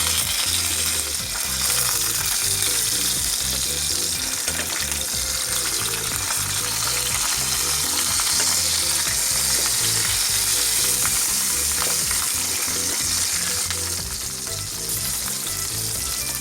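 Stuffed capsicum frying in a pan after being flipped, a loud, dense, continuous sizzle that stays close and even throughout with faint stirring, no voices.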